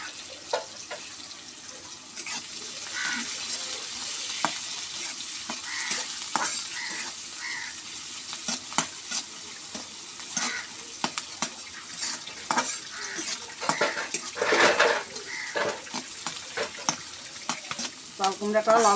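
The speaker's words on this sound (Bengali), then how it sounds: "সুন্দর করে চাল কুমড়াটা ভাজবো আমি" Ash gourd pieces fry in a pan with chopped garlic, onion and green chili, a steady close sizzle broken by frequent sharp stirring scrapes and clicks against the pan, with some faint background noise.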